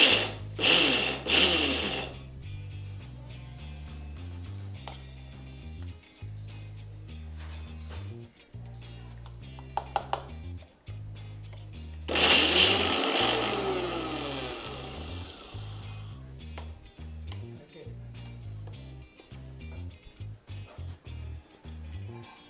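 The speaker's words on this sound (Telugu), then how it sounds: "మిక్సీ వేసుకుని" Electric mixer grinder chopping coconut pieces for a coconut chutney, running in loud whirring bursts with sharp stop-start pulses and a long grinding run in the middle, no talking.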